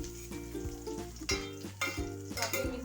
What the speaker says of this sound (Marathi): कांदा टाकून तो पण परतून घेऊया तो पण थोडा लालसर करून घेऊ